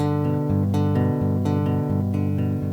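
Single bass guitar notes ring out in a steady, evenly spaced sequence, a descending arpeggio played cleanly with nothing else heard.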